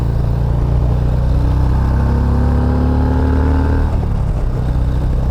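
A Harley motorcycle engine under way, leaning through corners on a newly bought bike still in break-in, gives a loud, steady, close drone whose pitch slowly shifts and dips near the end. Nobody speaks over it.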